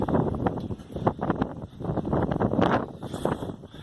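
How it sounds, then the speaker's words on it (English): Gusty wind buffets the microphone in rough, uneven surges, a continuous rumbling roar outdoors on a beach by rock pools, with no voices. "It's so windy today."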